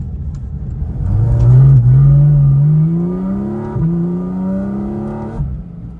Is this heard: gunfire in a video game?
no